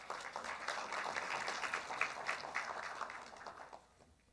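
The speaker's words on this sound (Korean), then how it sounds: "여러분 축하의 박수를 부탁드리겠습니다" Quiet, distant applause from an audience at a software industry protection awards ceremony, a soft patter of claps that holds steady and then fades toward the end.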